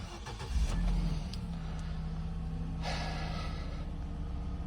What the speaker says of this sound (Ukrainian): Дуже хорошо працює двигунчик.